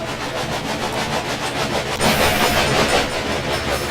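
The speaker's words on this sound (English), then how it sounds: "Your train is now traveling between Omaha and Norfolk." A train rolls along the tracks in Railway Empire with a loud, continuous rumble and rhythmic clickety-clack of the wheels, swelling a little louder partway through, alone without talk.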